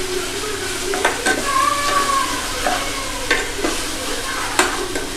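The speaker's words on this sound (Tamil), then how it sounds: "இஞ்சி பூண்டு பேஸ்ட்டும் வந்து நல்லா வதங்கிடுச்சு" Ginger garlic paste sautéing in a kadai for a North Indian dish: steady close sizzle and frying crackle with a few sharp scrapes of a spoon stirring against the pan.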